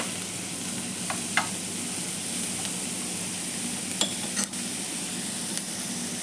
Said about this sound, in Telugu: అన్నీ బాగా వేగిపోవాలండి బాగా ఇలా వేగిపోవాలి